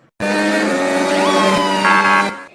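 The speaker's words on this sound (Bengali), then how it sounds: "এত জোরে গাড়ি চালাচ্ছিস কেন?" A cartoon car's horn blares in one long sustained honk with shifting pitch, loud and close, cutting off abruptly after about two seconds.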